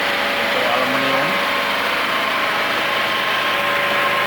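A GGA 3900 portable generator runs steadily, powering a 220AD TIG welder during aluminum argon welding, with a constant mid-pitched engine drone and faint electrical whine throughout and no voices.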